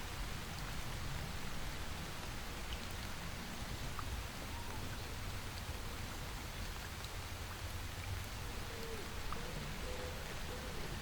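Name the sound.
water droplets splashing from a woodland waterfall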